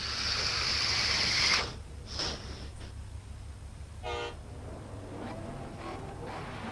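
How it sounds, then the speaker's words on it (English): A racing car's horn gives one loud sustained high honk at the start of a qualifying session, then cuts off, followed by quieter engine noise and a few faint distant sounds. "Right there's his horn, and he's off for that 30 roll."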